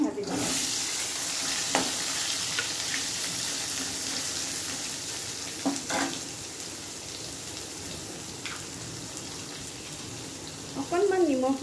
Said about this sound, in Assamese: এই তেলখিনিতে মই এতিয়া আলুখিনি ভাজি ল'ম।